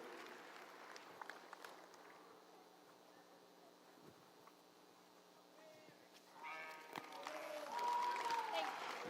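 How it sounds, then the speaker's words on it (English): An audience claps at a youth livestock show for Hampshire sheep exhibitors, the applause fairly faint and swelling toward the end, mixed with someone talking over a public address and an occasional bleat. "Let's give them all a round of applause"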